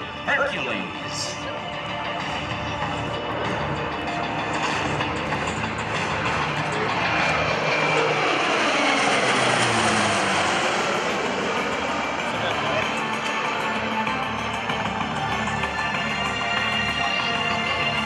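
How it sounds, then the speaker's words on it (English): A Lockheed C-130J-30 Super Hercules makes a low approach at an Air National Guard open house airshow, its loud, steady turboprop roar swelling as it passes overhead and then fading out, with a public-address voice over the engine noise. "They're bringing this C-130 in for a low approach."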